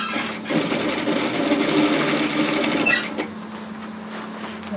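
A sewing machine stitches steadily along the short end of a fabric strap, a close, continuous mechanical whir for about three seconds before it stops and only a faint hum remains.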